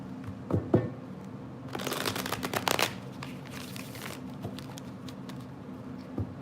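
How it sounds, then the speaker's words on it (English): A tarot deck being shuffled, with a brisk run of close papery riffles and flicks lasting about a second, followed by softer card handling and a few light taps in a quiet room. "Let me shuffle just."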